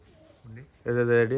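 Pigeon cooing from a Rajshahi Giribaj flying pigeon, a few soft, faint coos early on, then a loud, close, sustained rolling coo in the second half.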